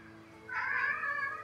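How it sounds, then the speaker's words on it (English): A pet cat gives a single drawn-out meow, fairly close and clear against a quiet room. "Did you hear my cat?"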